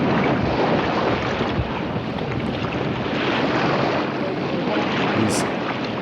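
Boat moving through water with a body being dragged behind it, a loud, continuous rush of wash and wind-like spray with no pauses.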